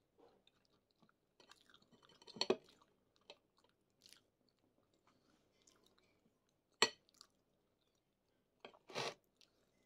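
Someone eats suman, a sticky rice cake, close to the microphone, with soft, irregular chewing and biting sounds and a few louder crunchy smacks spread over an otherwise quiet background.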